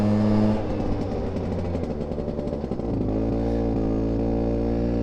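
A Vespa smallframe 125 scooter, ridden as a rat bike in a parking lot, its small engine buzzing steadily, then dropping pitch and settling into an even drone, close and fairly loud with no talking.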